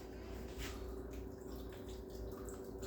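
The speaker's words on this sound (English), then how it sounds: "We're gonna add a splash of Worcestershire sauce before I put the potatoes in." A splash of Worcestershire sauce goes into a pot of simmering beef barley soup, a soft, faint liquid pour with light dripping over a steady low background hum.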